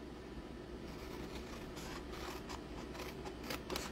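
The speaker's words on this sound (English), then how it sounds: "I've got very short bladed scissors I'm using at the moment" Short-bladed scissors cut scored card board in faint, quick snips against a steady low hum of room noise, and the snips grow slightly sharper near the end, with no talking.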